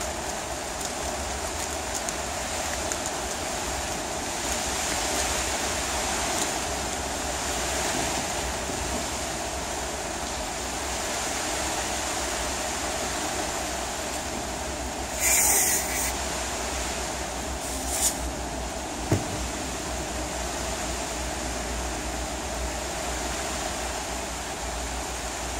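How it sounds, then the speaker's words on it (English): Steady broadband rain drumming on the plastic covering of a polytunnel, a continuous hiss-like wash at moderate level with no speech, broken by a couple of brief sharper knocks near the end. "when it starts raining, obviously it gets a bit noisy in here."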